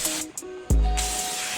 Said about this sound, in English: Gonna go ahead and hit it with some brake clean one more time just to be safe.